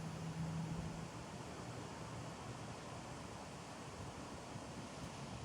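A hot, dry gust of wind blows steadily across the microphone as a broad, quiet rushing noise with no other sounds.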